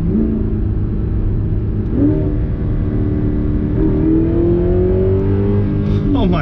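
An Audi R8 engine revs through paddle-shift gear changes, its steady drone rising in pitch with clear jumps near two seconds, four seconds and just before the end, loud and continuous with no talk.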